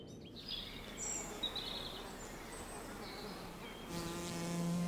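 Wild honeybees buzz steadily around a bee tree in a forest, a continuous droning hum with faint bird calls scattered through, growing slightly louder and fuller toward the end.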